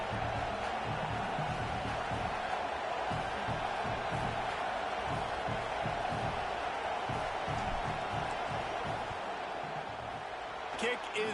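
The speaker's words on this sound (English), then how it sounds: "This crowd trying to do its part to get inside the kicker's head." Crowd noise fills a football stadium as the field goal unit lines up on fourth down in a Clemson vs Notre Dame game, a steady loud roar sustained throughout, with a commentator talking over it.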